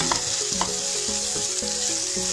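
Turmeric and black pepper powder are stirred through hot oil in a frying pan while making chicken Maggi cutlets: a constant bright sizzle with a few distinct spatula strikes and a soft melody running underneath.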